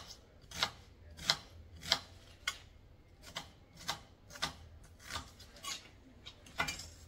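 A knife cuts onion into thin slices for Egyptian shawarma, making about a dozen crisp, evenly spaced chops on a board, close and fairly quiet, with no talking.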